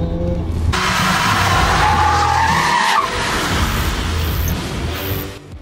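Hard braking on a test track as a car's tires skid and squeal in one long loud screech lasting several seconds under steady road noise, the skid trailing off near the end with no talk.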